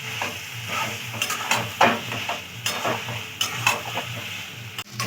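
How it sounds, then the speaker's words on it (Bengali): Boiled potatoes and yam being sautéed in spiced oil for a chicken curry, with a soft frying sizzle under repeated scraping stirs of a spatula against the pan, some stirs louder and closer than others. "আমি সেদ্ধ করে রাখা আলু আর খাম আলুগুলো দিয়ে দেবো"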